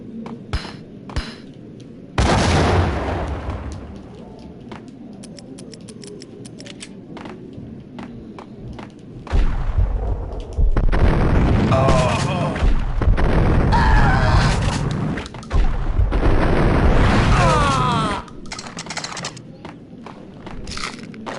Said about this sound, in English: Shotgun really packs a punch.